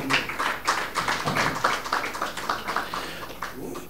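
Applause from an audience at a French-language loan guarantee launch ceremony, with steady, dense hand clapping that holds through and fades slightly toward the end.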